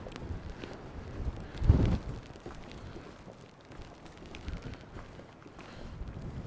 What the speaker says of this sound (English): the weather's changed now, so it's starting to get a bit windy and wild